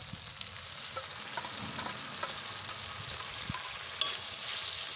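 Chicken with ginger, garlic, coriander and cumin powder and dried chilli paste sizzles steadily in a pan while a spoon stirs it in soft, irregular scrapes close by.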